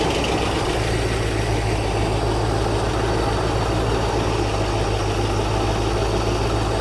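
A Ford F600 truck engine runs at a steady, loud idle with a deep low rumble and constant vibration throughout, no talk over it.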